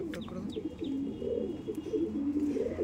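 Pigeons cooing softly and steadily at close range, a low murmuring coo that repeats throughout with a few faint chirps above it.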